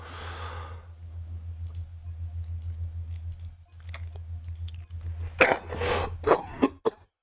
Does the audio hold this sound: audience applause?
no